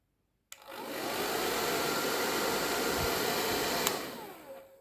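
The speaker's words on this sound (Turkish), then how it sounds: "fön makinesini en azından birinci konuma getirelim" A hair dryer switched on through a remote-controlled relay runs on its first setting. It starts with a click, roars as a steady, loud whoosh for about three seconds, then a second click cuts it and it fades out.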